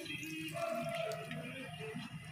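Vinegar poured into a cooking pot for sinaing tulingan, a Filipino braised skipjack tuna dish: a soft, continuous liquid trickle and splash lasting a couple of seconds, fairly close.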